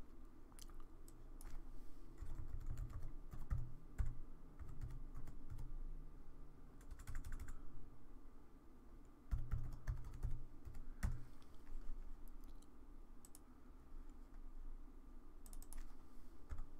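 Values being typed on a computer keyboard while working in Creo Parametric CAD software, close, quiet clusters of rapid key taps with pauses between bursts, no talk.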